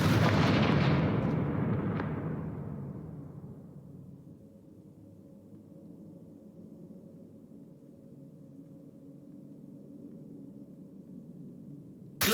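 A Confringo fire spell in Hogwarts Legacy bursts with a loud, close explosive blast and crackle at the start, then decays into a long low rumbling tail that hangs in the background.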